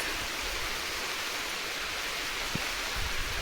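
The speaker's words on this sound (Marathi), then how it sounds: "पाऊस जोरात आला आहे" Heavy June rain pours down steadily in wild woodland, a dense, even rushing hiss that holds at constant loudness from start to end with no voices.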